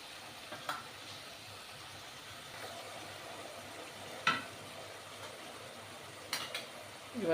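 A spice paste of ground mustard, turmeric and chilli fries in a pan, giving a steady low sizzle with a few sharp scrapes and clinks from stirring with a spoon.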